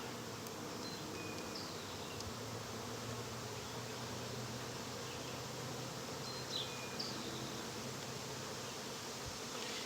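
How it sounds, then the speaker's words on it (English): Steady, close buzzing of many young nurse honeybees inside a hive, a continuous drone with a few brief louder passes of individual bees, no voices. "Young nurse bees, just like what I'm looking for."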